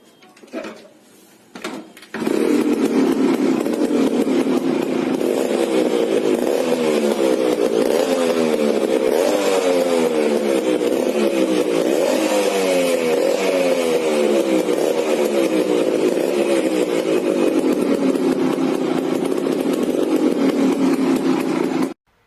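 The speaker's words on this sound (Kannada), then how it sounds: "ಗಾಡಿ ಸ್ಟಾರ್ಟ್ ಮಾಡ್ತೀನಿ ನೋಡಿ ಗೈಸ್, ಸೌಂಡ್ ಹೆಂಗಿದೆ ಅಂತ" A 2003 Suzuki Max 100 motorcycle starts after a few brief cranking bursts, then settles into a loud, steady, buzzing two-stroke idle that runs close by and continues unbroken.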